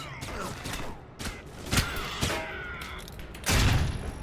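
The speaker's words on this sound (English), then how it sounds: "Oh god, flashbang! Avert your eyes!" A flashbang grenade in the Alpha Protocol video game goes off amid dense, continuous combat noise, with several sharp bangs and thuds, including a heavy low burst near the end.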